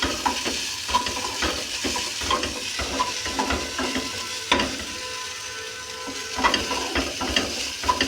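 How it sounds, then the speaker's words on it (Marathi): Salt being stirred into okra (bhindi) frying in a pan: steady sizzling with repeated scraping strokes of a spoon or spatula, close and clear, without any voices. "आणि सॉल्ट मिक्स करत आहे"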